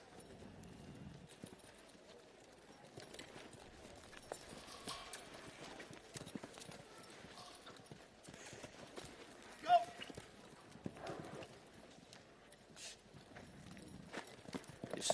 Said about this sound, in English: Just another one of the horses here representing the Willinga Park team, ridden today by Troy Palmer, Who's Divine.